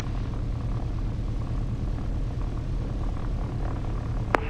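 Piper Seneca twin-engine propeller aircraft idling steadily before taxi, a continuous low droning engine hum with a constant tonal rumble, loud and near throughout.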